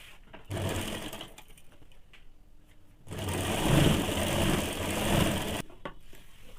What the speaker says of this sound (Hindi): इस प्रकार से इसे पकड़ के 1/2 इंच पे इसको पूरा में सिलाई डाल देना है